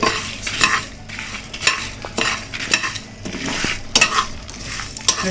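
Spices and coconut being stirred and dry-roasted in a pan over a low flame, with repeated scraping and clinking of a spoon against metal in an irregular rhythm, close and fairly loud, with no talk.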